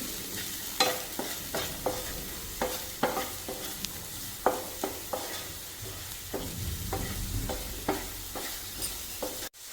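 Mixed vegetables frying with turmeric and salt as a spoon stirs them in the pan. Regular scraping knocks sound over a low steady sizzle, close up with no one talking.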